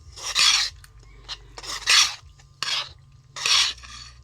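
Spoon stirring a flour, water and cornstarch batter in a bowl for fried enoki mushrooms, making several scraping strokes in a rhythmic pattern, close and clear, with no talking.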